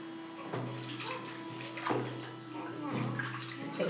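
Water sloshes and splashes during a baby's first bath in a tub, with soft intermittent splashes over a steady watery background and people talking throughout.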